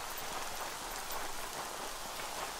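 Steady rain falls in Yonder: The Cloud Catcher Chronicles, a dense, even hiss of drops on the ground with no voices or thunder.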